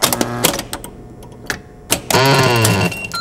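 Dragon pinball machine at play: loud, close mechanical clicks and knocks with a few pauses, then a bright, buzzing electronic tone sweeping for under a second.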